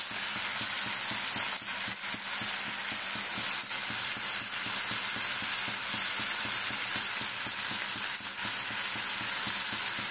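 Potatoes frying in a hot pan with a steady, close sizzle and intermittent stirring scrapes, even and moderately loud with no speech.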